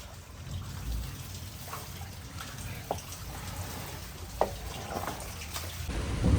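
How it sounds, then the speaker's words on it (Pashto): Heavy morning rain pours down outside a room, a dense steady hiss with scattered drips and a few sharp knocks, alone without voices. "اوس اچانک سهار د وخت باران ډېر تېز شوی"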